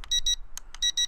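An E99 K3 Pro toy camera drone beeps during gyro calibration, giving a quick series of sharp, bright electronic beeps in short bursts, close and fairly loud.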